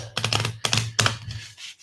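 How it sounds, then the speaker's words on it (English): Tarot cards being shuffled in close-up: three quick riffling bursts of crisp papery clicks and flutters, each about a third of a second long, with no talk. "So I will shuffle your cards up really good"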